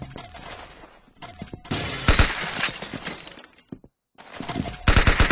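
Video game gunfire scores a headshot: sharp, loud cracks and bursts with a shattering, breaking edge, in several clusters separated by a brief silence.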